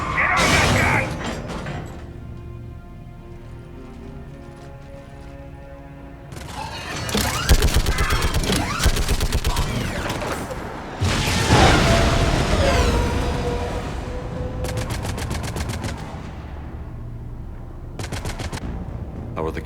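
Mounted gun in Mass Effect 3 firing in long rapid bursts against hostiles on a perimeter, loud and close, with crashing impacts and game sounds between volleys.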